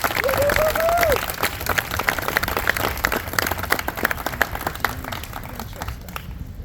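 An audience applauds steadily, welcoming a speaker to the podium, with dense, close clapping that holds for several seconds before tapering off, while a voice briefly calls out over it.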